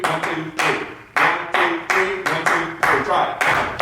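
Hands clap a steady three-beat pattern, sharp claps in repeating groups of three, close and fairly loud, with a teacher's voice counting along.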